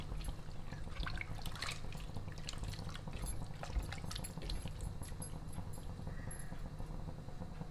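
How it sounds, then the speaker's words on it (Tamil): Water poured into a pot of mutton pieces for a Tamil-style mutton chukka and stirred in, a steady close splashing and trickling with faint clinks, no talking. "இப்போ இந்த கறி வேகிறதுக்கான தண்ணி இதில் நான் சேர்த்துக்கிறேன்"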